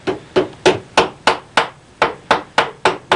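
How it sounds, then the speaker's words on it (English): Hammer blows on a nail driven into a leather medieval-style shoe to flatten a fold, about a dozen sharp, evenly spaced close strikes in a steady rhythm with no talk. "by hammering, you see I can take out most of that fold"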